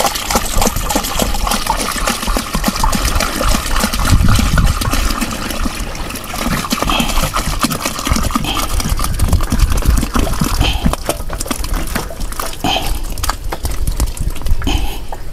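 Water poured into a bionuclear fertilizer mix, a steady, continuous splashing and trickling stream, close and fairly loud, with no pauses and no talking.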